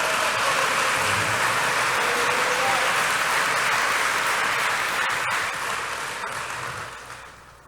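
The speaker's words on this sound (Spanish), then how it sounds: "Ahora sí, denle un aplauso al Señor." A church congregation applauds in sustained, dense clapping that holds steady for several seconds, then gradually fades out toward the end.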